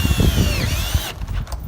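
Power drill driving screws into a gate hinge at the gate post, a loud close whirring burst that stops abruptly just past a second, followed by faint handling clatter.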